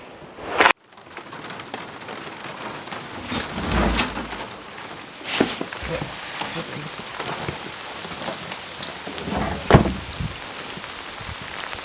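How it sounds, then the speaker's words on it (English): Steady rain patters on a van roof overhead, with a sharp thump near the start and occasional louder drips and knocks. "It's raining again."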